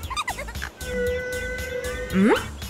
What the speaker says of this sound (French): C'est quoi ce bruit? C'est la petite baleine!